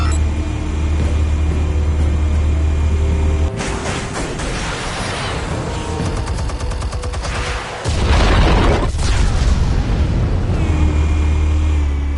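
Explosives detonating in the Batman Telltale video game: loud, dense blasts and crackling debris that swell around the middle and surge again near the end, over a steady low rumble, with no talking.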